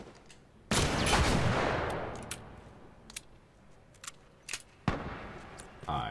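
Gunfire in The Last of Us video game: a loud close shot with a long decaying tail, followed by several sharp clicks and another shot, with no talking.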